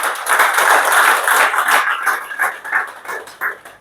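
An indoor class audience applauds its leader, dense loud clapping from many hands that thins into scattered claps toward the end.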